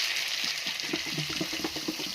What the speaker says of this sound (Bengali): জল দিয়ে ঢাকা চাপা দিয়ে দেবো যাতে সবজিগুলো সুন্দর সেদ্ধ হয়ে যায়